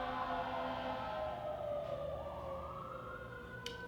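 An ambulance siren passes outside with a steady wail whose pitch drops as it goes by, heard continuously through walls with no talk over it.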